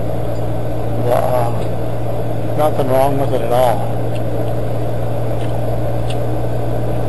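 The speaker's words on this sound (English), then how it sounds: "The car just runs, drives." White 1996 Geo Metro running, a steady low engine hum at idle, smooth and even, with someone speaking over it.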